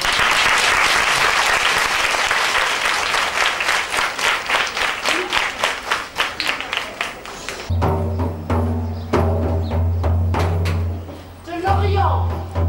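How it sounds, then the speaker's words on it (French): Loud audience applause at a Dakar storytelling performance, dense clapping that thins into scattered claps before a voice and then music take over. "On l'applaudit."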